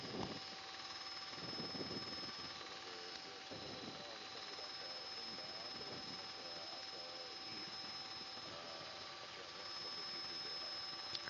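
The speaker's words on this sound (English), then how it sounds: "helicopter 480 Tango Hotel, information Victor would like to land at Alpha North" A helicopter's steady engine and rotor drone fills the whole stretch as it prepares to land at an airfield, a constant loud hum with faint radio-like voices breaking through underneath.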